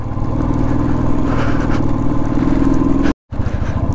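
A motorcycle loaded with firewood and luggage rides a mountain road toward Chanshal Pass, its engine a steady loud drone with rattling, broken by a brief cutout near the end.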